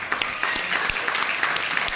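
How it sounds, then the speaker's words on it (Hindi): An audience at a company gathering claps loudly, a brisk, crackling patter of many hands heard at moderate distance, steady and unbroken for the whole stretch. "एक बार जोरदार ताली में चाहूंगा सर।"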